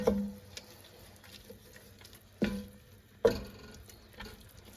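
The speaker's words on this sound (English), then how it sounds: "And continue stirring" Mushroom truffle risotto stirred in a pot, heard as soft, sparse scraping and a few light knocks of the spoon against the pot, quiet and close with no talk.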